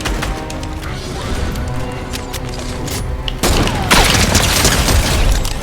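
Rapid gunfire bursts and heavy impacts from a Fortnite-style shooter during a headshot, loud and dense, growing louder midway with a crashing hit near the end over continuous game noise.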